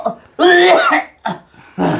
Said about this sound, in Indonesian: Jadi batuk tuh kamu.